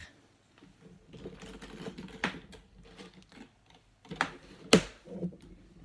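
A large single-colour briefcase is handled and opened, with scattered soft rustles and a few sharp, close latch clicks, the loudest near the end.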